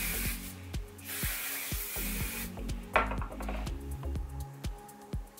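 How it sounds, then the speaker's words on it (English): Drybar Money Maker hairspray sprays over a head of hair in short hissing bursts close by, with soft rustling and ticking sounds between the sprays. "I'm just gonna spray my entire head with this"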